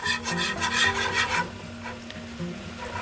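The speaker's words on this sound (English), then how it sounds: "just slowly add in your flour, whisk away at it" Flour being whisked into gravy in a pan gives a steady scraping rasp, strongest at first and then softer, with no voices.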